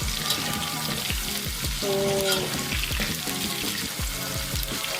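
Battered chicken pieces deep-frying in hot oil, a dense, steady sizzle and crackle running loud and close throughout, with a brief clink partway and a single word spoken over it.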